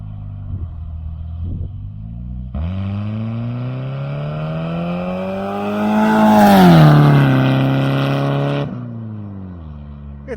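Volkswagen Beetle driving with a rubbing fender, its engine droning steadily and swelling louder mid-run as it accelerates, then cutting back near the end.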